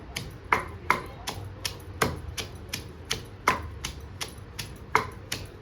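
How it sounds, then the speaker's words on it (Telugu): Tomatoes, garlic and chili powder are pounded in a mortar for an instant tomato pickle, giving a steady run of about a dozen sharp thuds at an even rhythm, close and clear. "ఇవి దంచుకుంటూ కారం కూడా కలుపు కలుపుకొని దంచుకోవాలి"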